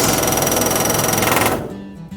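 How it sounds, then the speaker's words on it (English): A pneumatic air hammer drives a rivet into an aircraft wing while a bucking bar is held behind it: a loud, rapid, continuous rattle of blows for about a second and a half, then it stops and only a quieter tail remains. "putting in a rivet, then air hammering"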